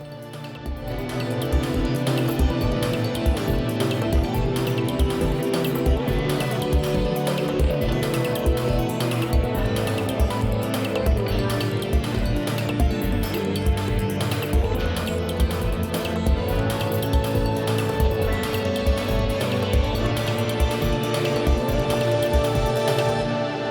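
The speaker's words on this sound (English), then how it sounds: "All the sounds you just heard are derived from that Pigano recording." A full song assembled entirely from sounds sampled out of a single Pigano recording, built in Ableton; a dense, steady mix of layered tones and rhythmic hits plays continuously and loud throughout.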